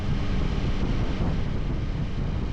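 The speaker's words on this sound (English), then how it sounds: "we've got a gale blowing, it's wet, it's very blustery, windy" Gale-force wind roars steadily over a rider on a Yamaha Tracer 9 GT in wet, blustery weather, a dense, constant low buffeting rush with no break and no voices.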